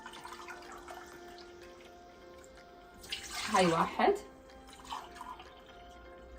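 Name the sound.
warm water being poured in for dough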